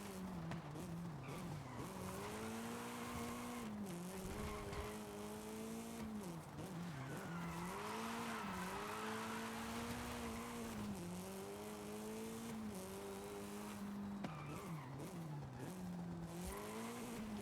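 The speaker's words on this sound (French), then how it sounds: "On peut presque entendre les roues géantes du monstre fantôme." Car tires skid and squeal continuously in the Forza Horizon 5 racing game, with a sustained wavering pitch over engine drone. The squeal is loud and close throughout, with no talk.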